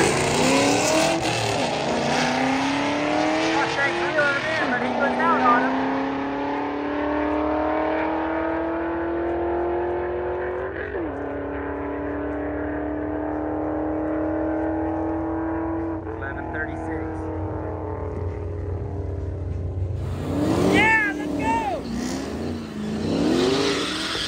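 An old pickup truck with a wood bed and a toolbox on the back drag races at Bandimere Speedway, its engine revving hard through rising gear changes and roaring away, with other race engines and track noise around it.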